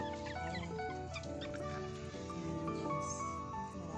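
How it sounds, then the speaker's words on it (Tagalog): Chickens in a home garden cluck and murmur softly, their calls overlapping over a continuous, faint background. "At marami din akong manok."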